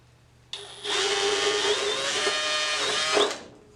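A power drill enlarges a hole in aircraft sheet metal for a Sonex inspection cover, just wider than a number 8 screw: one continuous high whine starts abruptly, holds for about two and a half seconds, then spins down and fades.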